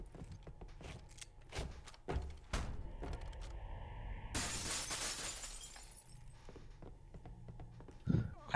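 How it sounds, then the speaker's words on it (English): Glass shatters in Halo: Combat Evolved, a sudden bright crash close by with crumbling debris spreading through a busy game soundscape of impacts and low rumble. "Oh, that did not sound good. The glass breaking."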